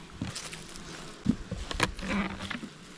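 Bees buzz around a backyard beehive during a hive inspection, a soft continuous hum with a few louder passes close by and some brief handling noises.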